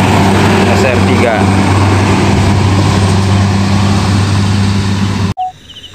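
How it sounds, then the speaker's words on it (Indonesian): A large MPM SR3 bus engine idles and rumbles with a loud, steady low drone and mechanical hum, continuous and close, then cuts off abruptly near the end. "Terdengar ada suara bus nih teman-teman."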